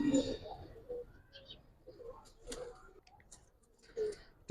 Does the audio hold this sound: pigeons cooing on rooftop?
yes